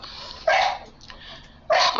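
A dog in heat barking indoors: two short, loud barks about a second apart, with a faint yelp between them and no talking.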